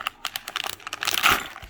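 Plastic mystery minifigure bag being torn open from the bottom, a quick burst of crinkling and rustling up close, with no talking.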